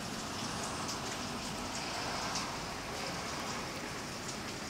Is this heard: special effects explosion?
no